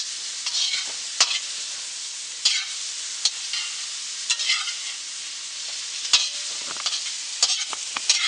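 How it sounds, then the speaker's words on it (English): Onions sizzle steadily as they fry in oil in a pan, a continuous bright crackle broken by occasional louder pops and stirring scrapes, close and with no talking. "You can see it's sizzling quite nice."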